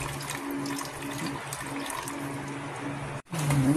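Water poured into a pan of Japanese curry sauce while it is stirred, a steady close pouring and sloshing with a low simmering hum, briefly cutting out before resuming louder.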